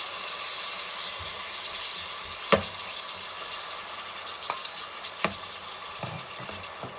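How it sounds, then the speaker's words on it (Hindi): Chicken frying in a little oil for chicken fried rice, a continuous close sizzle with a handful of sharp clacks from stirring or utensils against the pan, and no speech. "थोड़ा सा ऑयल ऐड करूंगी और साथ ही मैं ये अपना चिकन फ्राई करूंगी इसके अंदर डाल के"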